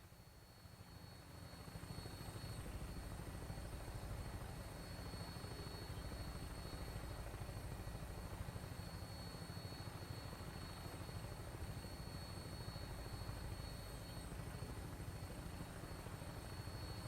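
An aircraft on final approach to an airport in Fallout 4, a steady loud rotor-like engine drone that holds constant throughout with no breaks.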